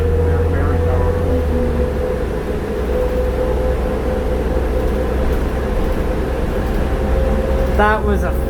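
A MAX light rail S200 train accelerates with a steady, loud low drone and a constant mid-pitched hum from inside the car, and faint voices can be heard near the end.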